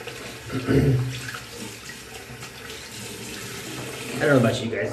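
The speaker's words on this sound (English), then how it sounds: "Let me rinse the brush off" Water from a running tap streams steadily over a shaving brush being rinsed, a close, constant splashing flow as someone talks briefly over it.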